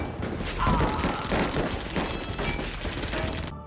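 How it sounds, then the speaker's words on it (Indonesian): Rapid bursts of gunfire crackle and boom in a film scene of a gang shootout at a school, dense repeated shots lasting several seconds. "geng tersebut sudah berada tepat di belakang mereka, sehingga baku tembak pun tak terhindarkan"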